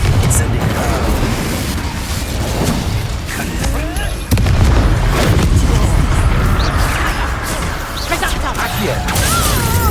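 Spell explosions from Confringo and Incendio in Hogwarts Legacy, with repeated booming blasts and crashing impacts over rumbling combat noise, close and loud, while a voice speaks intermittently.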